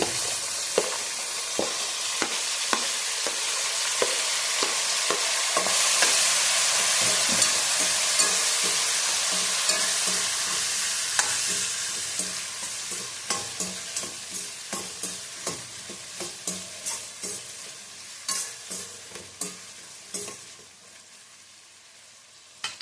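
Chopped tomato and capsicum fry together in a pan for vangi bath, a loud continuous sizzle that later gives way to a quicker run of sharp stirring and scraping clicks as it quietens.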